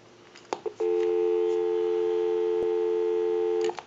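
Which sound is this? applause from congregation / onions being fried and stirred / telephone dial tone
telephone dial tone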